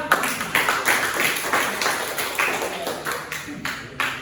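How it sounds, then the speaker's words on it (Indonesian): A group claps in a rhythmic pattern, regular bursts repeating roughly twice per second, nearby and fairly loud, like a class clapping together in unison. "Tepuk tangan untuk Azida."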